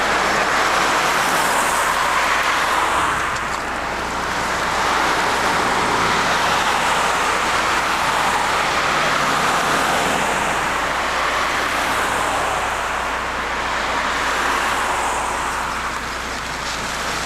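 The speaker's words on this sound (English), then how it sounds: "Never-ending traffic." Continuous road traffic near Ledgewood Circle, New Jersey, beside a Dunkin' Donuts: a steady broadband wash of cars and heavier vehicles that swells and eases as they pass close by, with no voices.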